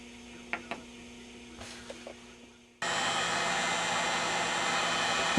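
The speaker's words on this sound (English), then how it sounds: "So I'm going to get out my heat gun and start heating this up" Heat gun switched on to heat a wax-covered old capacitor during a Philco 39-30 radio restoration: a few faint clicks and handling knocks, then a sudden loud, steady blowing roar that runs to the end.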